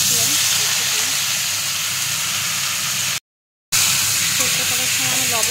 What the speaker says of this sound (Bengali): পটলগুলো প্রায় ভাজা ভাজা হয়ে এসছে